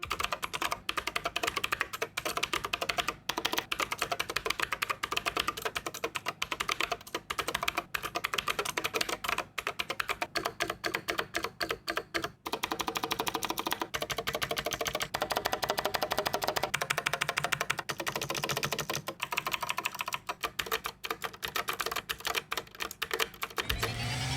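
Rapid typing on a budget mechanical gaming keyboard, a dense stream of crisp key clicks and clacks with brief pauses, close and clear throughout, no voices.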